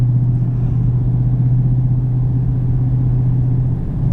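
A 2018 Dodge Demon's engine idles with a deep, steady rumble, continuous at a loud, close level, with a low throbbing hum and no speech.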